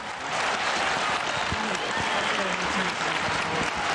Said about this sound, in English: The faithful erupted into cheers and applause as Pope Francis made his first public appearance